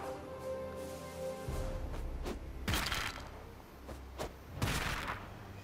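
Explosions and impacts in South Park: The Fractured But Whole, several sharp bursts over a low hum of game music, each short and moderately loud with quieter clattering between.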